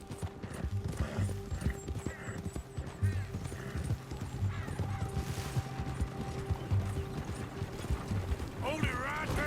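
Horse hooves clip-clopping in Red Dead Redemption 2, a steady rhythmic trot with a whinny, mixed with game music, mechanical clicks and voices talking throughout.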